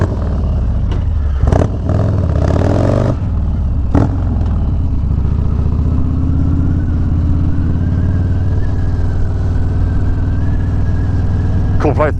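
A Harley motorcycle thunders loudly and continuously on a dirt road with a deep, rumbling engine that climbs in pitch as it pulls away. A few sharp knocks and a short rattle come early, and a voice talks briefly under the noise.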